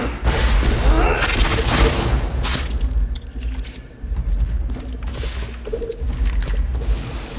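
A Torgue rocket launcher fires in Borderlands 2, loud heavy booms and rumbling blasts in bursts with low thuds and clatter between them.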